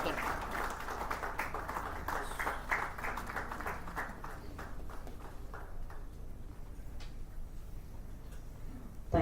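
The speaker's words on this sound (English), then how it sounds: "Can we have a thunderous round of applause for sir?" An audience at a regional conference gives a round of applause during a felicitation. The clapping is dense at first, then thins and fades to scattered claps and quiet room sound over several seconds.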